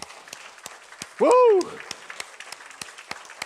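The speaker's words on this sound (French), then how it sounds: "Applaudissons le Seigneur." Scattered claps from a church congregation during a French-language Sunday worship service, sparse and fairly steady, with a single excited shout rising briefly over them partway through.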